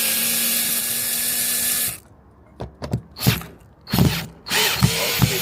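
A power drill whirs in several short bursts, starting and stopping unevenly as it removes garden decking screws, after a stretch of steady running water or hiss.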